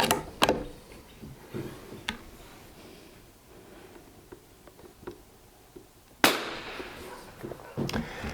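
A Remington 510 Targetmaster rifle fires two loud, sharp cracks, one near the start and another about six seconds later, with faint clicks and handling noise in between.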